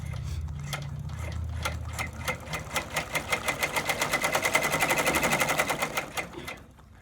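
An embroidery machine stitches a Cocomelon shirt, starting with a low hum that builds into a rapid, steady mechanical chatter of needle strokes. It is close and fairly loud, then cuts off near the end.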